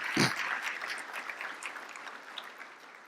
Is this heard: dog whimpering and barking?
no